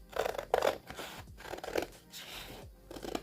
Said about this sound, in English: Then I'm going to cut around it.